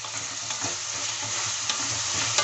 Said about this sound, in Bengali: সবগুলো মশলা আমি ভালোভাবে ফ্রাই করে নেব